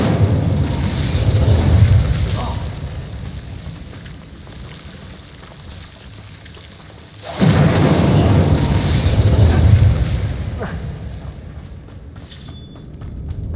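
Two heavy whooshing fire bursts from the Incendio spell in Hogwarts Legacy roar up loudly, each swelling and fading over several seconds, with a short bright chime at the end.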